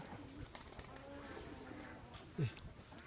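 A pigeon gives a single soft, low coo in a garden in Vietnam where chickens and ducks are also kept. The call is faint and distant over quiet outdoor background noise.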